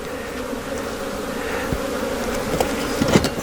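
Steady, dense buzzing of many honeybees around an opened hive close by, a continuous drone with occasional louder passes near the end.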